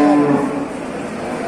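A slaughter cow lowing at a livestock market in Çorum, one loud, close moo that trails off into market background noise.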